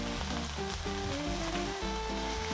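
Chicken pieces dropped into a pan of stir-fried onions give a steady, close sizzle that runs throughout, with tonal background music playing over it.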